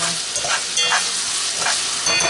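Onions fry in a pan for an arroz con pollo, giving a loud, steady hiss and crackle with short bursts of stirring, close up and with no voices.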